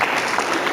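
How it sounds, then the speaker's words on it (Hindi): An audience at a satsang gathering in Jaipur, Rajasthan claps in a dense, steady burst of applause filling the whole short moment, with no talk over it. "उनके लिए ताली बजा दे।"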